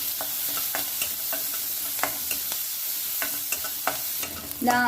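Shallots and green chillies sautéing in coconut oil for a Kerala okra and egg thoran, with a steady soft sizzle and repeated sharp spoon clicks against the pan as the mix is stirred, then a louder burst of frying near the end.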